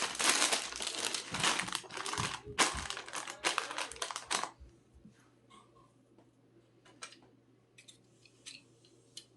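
A chip bag is folded with the chips still inside, giving dense, close crinkling and rustling for about four seconds, then only scattered soft crinkles and handling noises. No voice is heard.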